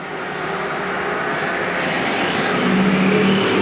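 American factory stock race cars at a speedway roaring as they accelerate away on the green flag, a loud continuous engine drone that builds gradually toward the end.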